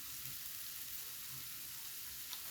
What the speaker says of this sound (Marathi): कांदा थोडा फ्राय होतपर्यंत आपण असं टाकायचं.